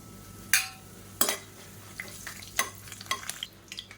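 Whole spices (cinnamon, cloves, cardamom, star anise, kalpasi) and curry leaves fry in hot oil in a cooker, with a low crackling hiss broken by several sharp, close scraping and clinking stirs.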